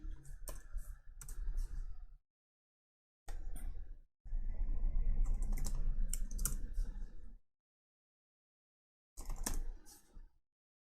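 Quick bursts of clicking keystrokes on a computer keyboard as a command is typed on a master server, coming in several runs with short silent gaps, close and clear with no talking.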